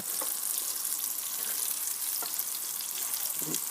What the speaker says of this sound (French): j'ai mon beurre qui chante, donc on y va. Je mets mes pommes